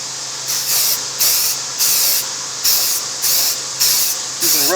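Rust-Oleum Universal Primer sprayed from an aerosol can in bursts: eight close, loud hissing blasts of about half a second each, separated by brief pauses.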